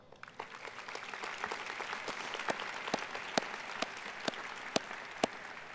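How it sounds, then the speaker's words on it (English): Scattered applause from graduates at a college diploma and awards ceremony, a moderate, fairly quiet patter with individual sharp claps standing out near the microphone. "So please, please give yourselves a round of applause"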